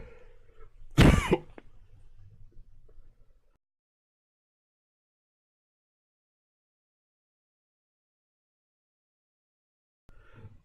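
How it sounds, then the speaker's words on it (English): A single loud, close cough from coffee going down the wrong way bursts out over faint background murmur, followed by a long stretch of silence. "My apologies for the cough. Coffee went the wrong hole."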